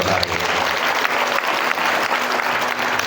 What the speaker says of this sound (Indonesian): Tepuk tangan buat moderator hari ini.